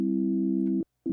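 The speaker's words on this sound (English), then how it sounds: "That's the FM sawtooth wave." A Dexed DX7-style FM synthesizer holds a steady buzzy tone, breaks off briefly and then resumes, giving two clean electronic notes that fit an FM sawtooth wave.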